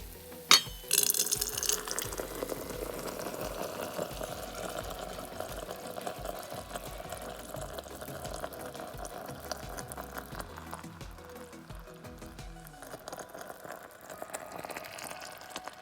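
Hot homemade dandelion syrup pours through a metal strainer in a kitchen, a steady liquid stream trickling and splashing for many seconds after a brief clank, then thinning out toward the end.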